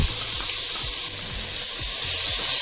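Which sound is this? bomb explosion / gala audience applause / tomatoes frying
tomatoes frying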